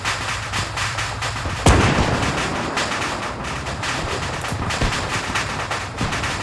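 Gunfire in the World War II tank game Spearhead 1944 while defending Saint-Denis-le-Gast, a steady run of loud rapid shots with one heavy blast near the start and more bursts through the end.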